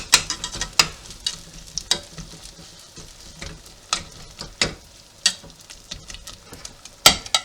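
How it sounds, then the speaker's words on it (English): Venison mince sizzles steadily in a pan while an egg slice repeatedly scrapes and breaks it up, giving sharp, irregular clacks over a continuous close frying hiss. "you want to break it up with egg slice, otherwise you'll end up with meatballs instead of mince"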